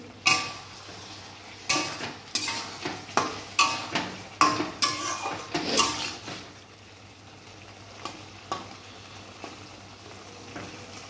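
Egg and potato curry sautéing in a pan, with a run of sharp scraping and stirring knocks over a low sizzle that grows busy in the first half, then thins out into a few scattered spoon taps.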